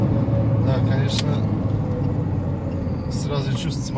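A Lada Priora engine drones steadily from inside the cabin while driving, a constant low hum throughout, with a few brief higher noises and voices talking over it.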